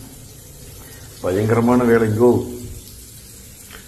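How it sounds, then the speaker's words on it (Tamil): A hand-sensor water tap in a Bangalore airport lounge runs in a steady, close hiss of flowing water throughout, while someone briefly speaks over it partway through. "இங்க பாத்தீங்களா, இந்த இடத்துல கை காமிச்சா தண்ணி இங்க வருது."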